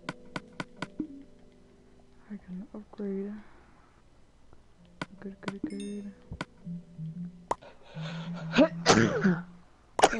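A person sneezes loudly near the end, preceded by scattered clicks and a few short vocal sounds in an indoor setting.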